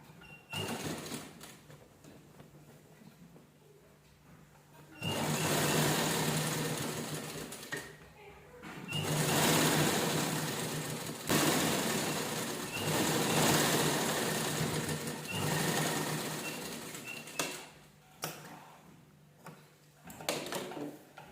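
A sewing machine stitches a cloth cover for holy books, made from a blouse piece, in several close bursts of rapid mechanical whirring separated by pauses, while someone talks throughout.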